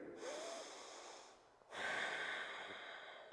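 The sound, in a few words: deep breathing during a yoga pose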